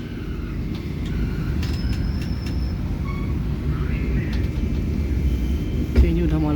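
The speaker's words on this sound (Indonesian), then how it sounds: "Malam, kereta api Brawijaya berhenti di stasiun Kediri." The Brawijaya, an old long-distance executive passenger train, sits stopped at Kediri station at night, a steady low rumble of idling locomotive and carriages with faint station sounds and a voice speaking.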